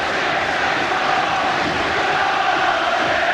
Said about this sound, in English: it's the Jones boy that they're cheering here at Barnsley tonight